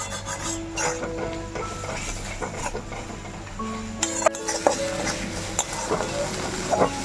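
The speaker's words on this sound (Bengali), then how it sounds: "এবার আমি মশলাটা কষিয়ে নেব" Spice paste for a crab curry being fried and stirred in a kadai, with steady scraping and rubbing of a spoon against the pan, soft clinks of metal near the end, close and moderately loud, with no talking.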